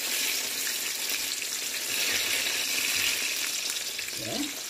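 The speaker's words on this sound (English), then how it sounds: "This is the frying." Continuous sizzling of garlic chicken breast frying in a pan, steady and close, with a brief clatter near the end.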